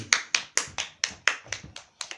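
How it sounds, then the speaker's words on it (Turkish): Someone claps in a slow, even rhythm for the arriving Doğa, about ten separate sharp claps close by, each spaced roughly a quarter second apart. "Doğa Salış geliyor. Alkışlayın."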